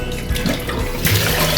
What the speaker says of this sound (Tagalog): Palubasin malakas ang tubig.